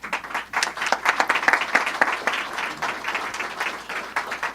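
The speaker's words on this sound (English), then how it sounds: "I think Jack Conway deserves another round of applause." An audience at a press conference on substance abuse treatment breaks into steady, dense applause, a crowd of hands clapping continuously for several seconds with no talking over it.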